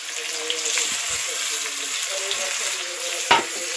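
Chicken pieces frying in a pan after salt is added, a steady close sizzle with faint stirring and a brief clatter near the end.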